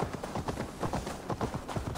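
Horse hooves galloping in the video game Assassin's Creed Valhalla, a steady fast rhythm of thudding clip-clop beats over a dense game soundscape, close and continuous throughout.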